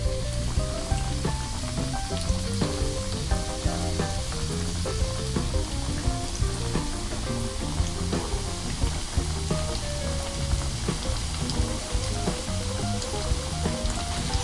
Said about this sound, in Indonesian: goreng nugget tempe sampai kuning keemasan.